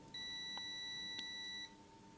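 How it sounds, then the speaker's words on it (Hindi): A digital multimeter's continuity buzzer gives one steady electronic beep of about one and a half seconds as its two probes are shorted together, loud and close with a faint hum underneath. "जो मल्टीमीटर का बज़र है वो ऑन हो जाएगा"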